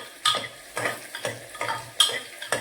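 Onion, garlic and chillies stirred in a frying pan, rhythmic spoon scrapes about every half second, close and fairly loud over a light sizzle.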